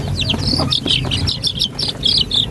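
Rhode Island Red chicks and quail chicks peep continuously in a brooding cage, with a busy overlapping chorus of high, rapid cheeps close by.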